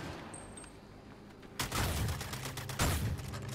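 Gunfire in the video game Suicide Squad: Kill the Justice League: quiet at first, then a loud rattling burst of shots at close range, followed by a second heavy volley a moment later, with no voices.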